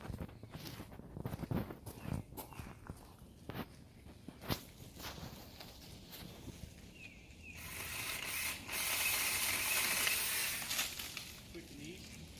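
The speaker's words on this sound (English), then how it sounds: "let's go cut some high branches" A cordless 2-in-1 pole saw cutting high branches outdoors: scattered clicks and handling knocks, then the saw running in a steady, dense burst for a few seconds while cutting, then tailing off.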